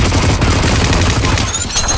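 An M60 machine gun fires in a video game, a loud rapid burst of shots that fills the short clip close up.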